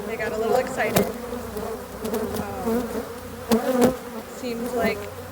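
Honeybees buzz loudly and excitedly around a frame lifted from a nuc hive during installation, a dense, wavering drone of many wings close by with sharper passes of individual bees and occasional knocks.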